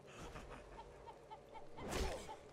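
A chicken in the game City of Brass clucks in several soft, evenly spaced calls, interrupted by a sudden loud whoosh partway through.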